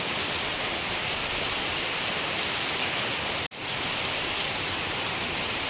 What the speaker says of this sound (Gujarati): વરસાદ ચાલુ રહે છે